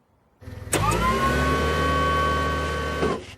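Cartoon forklift engine from Family Guy starting with a sharp onset, then a steady mid-pitched motor whine that holds loud and even for a few seconds before cutting off, no voices.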